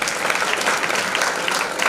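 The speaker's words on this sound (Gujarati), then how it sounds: "તાળીઓ ચાલુ રાખજો." A crowd at a full-moon temple celebration led by a Hindu mahant keeps up thick, continuous applause, close and evenly sustained throughout with no voices standing out.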